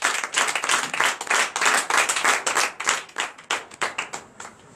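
A church congregation at a Friday night deliverance and prophecy service claps hard for several seconds, a dense, loud patter of many hands in a fast steady rhythm with no voices.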